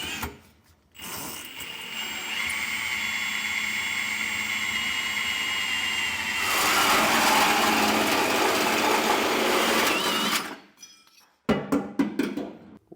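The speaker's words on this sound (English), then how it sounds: "when I'm drilling the hole, I can stand on this and give it a little support" A hole saw drills through the bed of a 2019 Chevrolet truck during a gooseneck hitch installation, giving a loud, steady grinding whine for about nine seconds before it stops and a few clanks follow.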